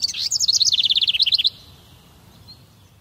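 Rapid bright bird chirps in a quick repeated run of about twenty notes lasting over a second, fairly near and clear, then fading to quiet background.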